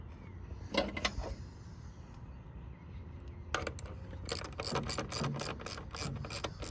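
A ratchet wrench works a car battery terminal bolt. It gives a brief burst of clicks, a pause, then a fast, close run of sharp ratcheting clicks through the last few seconds, with no talking.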